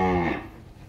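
Cattle about seven months old lowing once, a close, loud moo that fades out within a second.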